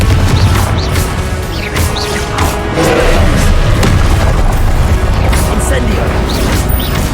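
Confringo fire spell explosions in the Hogwarts Legacy video game: repeated loud booming blasts and crashing impacts in a dense, continuous battle din.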